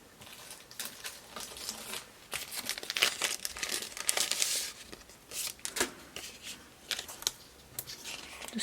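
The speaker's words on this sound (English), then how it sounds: "let me just get a piece of foam tape here." Backing paper peels and crinkles as a piece of foam tape is pulled off for papercraft, making close, soft rustling and tearing bursts at a low level.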